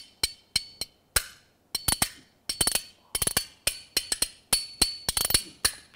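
A player clacks a pair of bones, rolling them down the fingers, producing sharp bright clicks in quick syncopated bursts and rattling triplets, close and crisp against silence.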